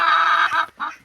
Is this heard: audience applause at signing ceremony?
no